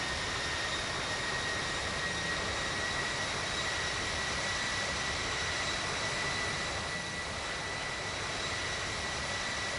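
A Jetstar jet airliner takes off from runway 12, its engines producing a steady, loud, broadband roar with faint high whining tones that holds evenly throughout.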